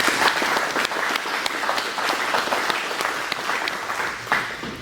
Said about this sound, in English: Let's have a round of applause for Anne, please.